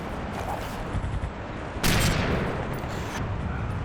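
Sniper rifle gunfire in the World War Zero (Iron Storm) game: one sharp, loud shot bursts out partway through over a busy, noisy battle backdrop.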